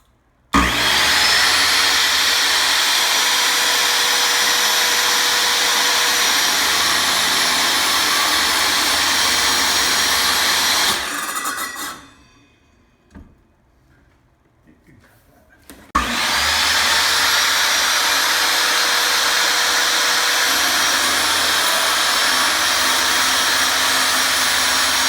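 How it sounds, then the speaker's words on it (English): Miter saw cutting PVC plastic strip for relocating a motorcycle license plate, a loud sustained whining cut that runs about eleven seconds, pauses briefly to near silence, then resumes just as loud for the remainder. "So now we're just going to line up each line with the miter saw"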